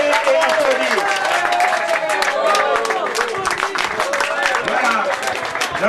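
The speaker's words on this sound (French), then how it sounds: "Il faut se lever et applaudir." Loud, continuous audience applause at a French-speaking plenary assembly in Dakar, clapping blended with crowd voices and cheering throughout.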